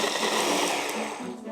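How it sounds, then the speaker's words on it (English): A blender puréeing raspberries with a good helping of icing sugar into a coulis, a steady high whirring motor running close and loud throughout with no talk. "Use a blender or processor and add a good helping of icing sugar"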